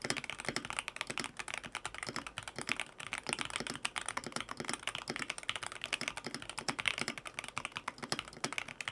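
Rapid, continuous keystrokes on a magnetic gaming keyboard, a dense and even clatter of close, crisp clicks that runs for the whole stretch with no voices.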